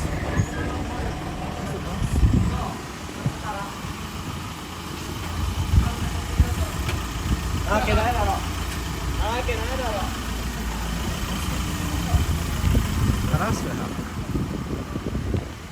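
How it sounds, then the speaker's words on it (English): A bus idles on a city street, a low rumbling engine under passing traffic noise, while people talk nearby and a few brief chirping sounds rise in the middle. "there's a bus."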